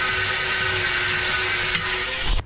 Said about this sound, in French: Il va être obligé de couper le boulon. Et il a pris la meuleuse.